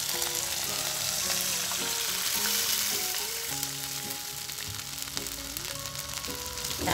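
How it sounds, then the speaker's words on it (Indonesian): Water goes into a pan of sautéed spices for an Indonesian bean sprout and tofu vegetable soup, setting off a loud, steady sizzle and frying hiss that lasts throughout, with faint stirring and no talk. "kemudian kita masukkan airnya."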